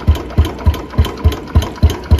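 A Royal Enfield Bullet 350 UCE single-cylinder engine idles after carburettor tuning, giving a loud, steady thump-thump of evenly spaced low pulses, about three per second, close up with no talk.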